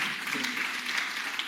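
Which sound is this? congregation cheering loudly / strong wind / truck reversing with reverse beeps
congregation cheering loudly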